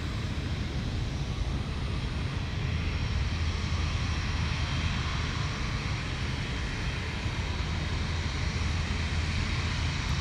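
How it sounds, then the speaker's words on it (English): Airliner taking off at full thrust at Cairns Airport, a steady, loud broadband engine roar filling the whole stretch without letup, no voices heard. "I don't mind if it's a turn and burn because we get the full thrust rotation right in front of us."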